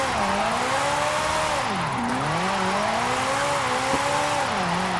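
A 1962 Ferrari 250 GT Berlinetta Lusso with a 914-horsepower engine and AWD drift tune in Forza Horizon 5 revs hard and steadily, pitch climbing and dipping through quick gear changes, loud and continuous with no speech.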